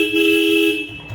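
A Royal Enfield Bullet motorcycle horn sounds one loud, steady, close tone lasting about a second before cutting off, with no one speaking over it.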